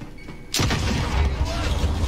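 Frag grenade detonating in a multiplayer shooter video game: one loud, sharp boom that cuts in abruptly, followed by a long rumbling roar and debris-like decay that stays loud to the end.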